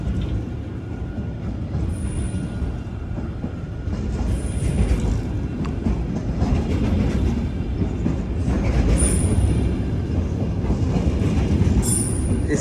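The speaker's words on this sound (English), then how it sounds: "It's a Tesco train." A Tesco freight train rolls through Longbridge railway station at close range, a steady heavy rumble of wagons with rhythmic wheel clatter and occasional high wheel squeals, growing slightly louder toward the end.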